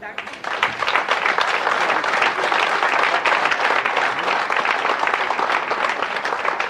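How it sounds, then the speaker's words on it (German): Loud, dense applause from a crowd of fans at an event in Cologne, many hands clapping steadily after a brief quieter start and holding strong to the end. "Dann hätte eine riesengroße Applaus verdient"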